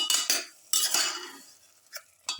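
Chicken and cut potato pieces being mixed in a pressure cooker, with a few sharp utensil scrapes and clinks against the metal pot in separate bursts, close and fairly loud with quiet gaps between.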